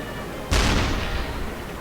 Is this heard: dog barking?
no